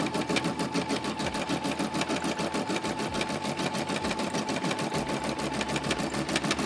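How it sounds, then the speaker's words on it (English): A Brother SE 400 sewing machine stitches a running-stitch outline with a fast, even mechanical clatter and motor whir, steady and close throughout. "So now my hope is that it'll just do an outline of a running stitch"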